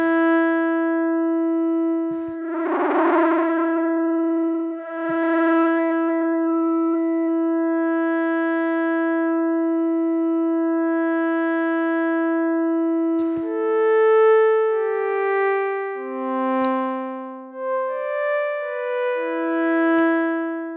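A synthesized wavetable string plays sustained chord tones through an Echo chorus effect with wobble modulation, loud and clean, with shimmering, slightly shifting harmonics as the held notes change and layer.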